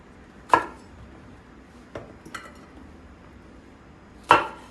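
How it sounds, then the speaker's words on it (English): Kitchen knife slicing ají pepper into julienne strips on a cutting board, three distinct thuds spread apart with a couple of softer taps between, close and otherwise quiet. "Ají, I'm gonna cut it in julienne."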